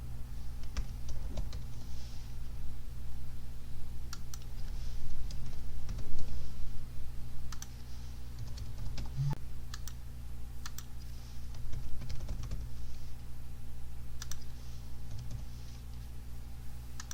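Typing on a computer keyboard while entering data into a Word document, a steady run of light key clicks over a constant low electrical hum, close and moderately quiet, with no talking.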